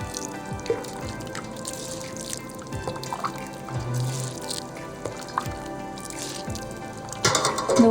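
Broth is poured into a rice cooker pot holding mixed rice, a soft trickling and dripping of liquid that swells into a fuller splashing pour at the end, heard close with no talk.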